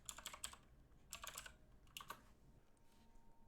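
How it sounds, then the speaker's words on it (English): Typing the ipconfig command on a computer keyboard at a command prompt: three quick bursts of crisp key clicks, close and moderately loud, separated by short pauses, with no talking. "let's check it again by typing in ipconfig"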